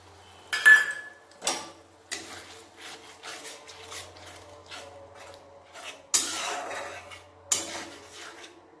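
Spice paste for a rohu fish curry with coriander paste is worked in a pan with a spatula: intermittent scraping and clinking strokes, spaced irregularly over a quiet background, no voices.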